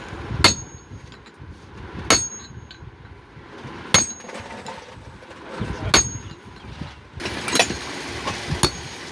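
Hammer blows driving the upper bearing into an injector water pump during repair, five sharp metallic strikes spaced about two seconds apart with a faster cluster at the end, close and loud over low workshop background.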